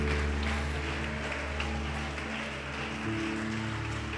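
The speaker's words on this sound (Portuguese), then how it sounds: "Pode aplaudi-lo, pode glorificá-lo." A church congregation applauds during a worship service, a dense, steady patter of clapping hands with a continuous hum underneath.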